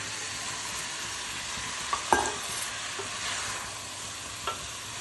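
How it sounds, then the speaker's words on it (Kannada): Mushrooms stirred and frying in a pan with ginger-garlic paste for biryani, a steady soft sizzle with a few faint scraping clicks of the spoon. "ಮಶ್ರೂಮ್ ಹಾಕೋಣ."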